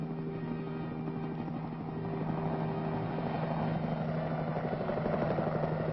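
Helicopter hovering while it delivers a 75mm pack howitzer for artillery use, a steady rotor and engine drone that holds throughout and grows slightly louder toward the end, with no voices.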